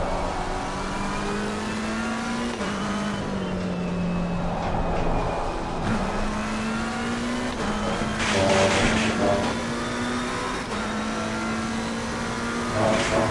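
A McLaren GT3 race car in the racing game Assetto Corsa Competizione drones loudly and steadily, its engine note rising and dipping through gear changes and corners, with brief tyre noise and no talk.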